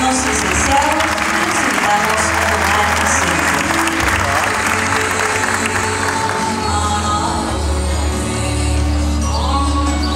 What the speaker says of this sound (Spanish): Le brindamos un fuerte aplauso a los alumnos licenciados.